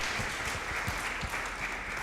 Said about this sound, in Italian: Facciamo un applauso ai giovani